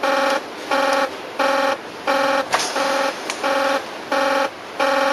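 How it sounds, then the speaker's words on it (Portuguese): An alarm blares in the control room of the Chernobyl nuclear reactor, sounding as loud, harsh electronic tone bursts that repeat in a steady rhythm, about seven pulses separated by short gaps. "também já se acostumou a alarmes como este"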